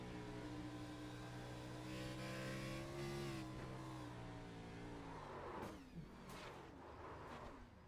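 A race car engine in a racing video game drones steadily at high revs with shifting pitch, then breaks into a few sharp bursts near the end as the car struggles.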